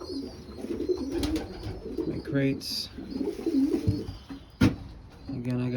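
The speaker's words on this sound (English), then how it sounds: "Look at the pigeons in here." Pigeons coo in a loft, soft repeated throaty calls rolling on steadily at close range, while someone speaks briefly over them and a few sharp clicks and knocks cut through.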